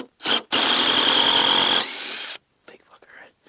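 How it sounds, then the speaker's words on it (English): A power drill backs screws out of pressure-treated pergola joists in two loud, steady whirring bursts, the second pitched slightly lower, followed by faint scattered handling sounds. "So what we'll do now is pull the screws"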